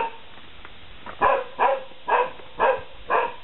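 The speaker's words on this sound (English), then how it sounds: "We have some noisy dogs, as you can tell, but once we get to them they'll quieten down." Dogs at a Thai animal sanctuary bark in a run of five loud, evenly spaced barks, fairly close, with kennel background noise between them and no talk.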